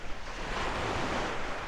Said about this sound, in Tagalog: yan ang gusto kong alon pag nag-swimming, yung ganyang kalakas